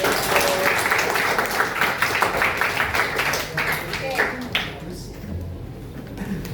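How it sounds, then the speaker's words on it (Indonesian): Scattered clapping from a class of students mixed with chatter after a lesson, dense at first and thinning out toward the end. "tepuk tangan dong"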